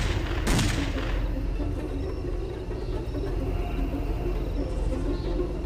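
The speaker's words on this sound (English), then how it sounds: "Is that a grenade?" A loud explosion in a shooting video game bursts near the start, followed by a rumbling tail and continuous background battle noise.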